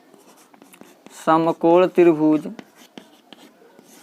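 Short, sharp strokes of writing on a board in a maths lesson tap and scratch steadily in the foreground, interrupted by a brief spoken word in the middle.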